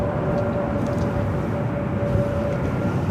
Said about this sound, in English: Frontier A321 Neo taking off on 24 left